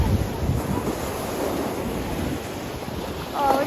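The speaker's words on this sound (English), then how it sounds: "Oh, look at those waves." Great Lakes waves roll in after a storm, a broad continuous surf wash mixed with heavy wind buffeting the microphone, loud and steady throughout.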